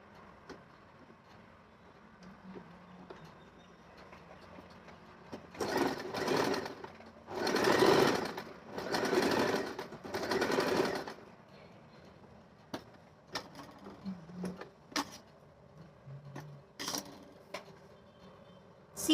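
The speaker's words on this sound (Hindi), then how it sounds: "यहाँ पे साड़ी और फॉल को रखा है और हम उस पे सिलाई लगाएंगे।" A home sewing machine stitching a fall onto a saree, running in a few loud whirring bursts with quieter handling sounds and light clicks between them.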